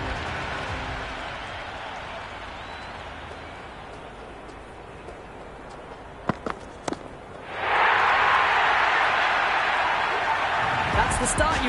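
Crowd in a T20 cricket video game, Sydney Sixers against Pattoki Warriors, swelling after a six: steady stadium murmur with a few sharp thuds, then a loud sustained roar of cheering over the final seconds.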